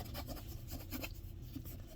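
Polish being rubbed onto leather boots with a cloth, a soft, steady scuffing rasp in quick repeated strokes, close and fairly quiet with no talking.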